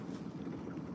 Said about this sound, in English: we have the motor on. We are back trolling, very slow, just in gear.